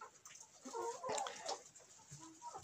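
Pushkin breed chickens cluck in a small backyard flock, with a few soft, irregular calls rising close by and no talk over them.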